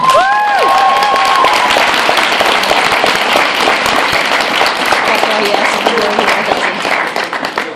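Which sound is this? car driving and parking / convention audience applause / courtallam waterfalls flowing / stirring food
convention audience applause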